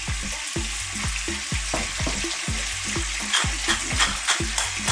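Bite-sized pieces of belly pork fry in a pan over medium heat, giving a loud, close, crackling sizzle with repeated thumps and scrapes from stirring throughout, with no voices.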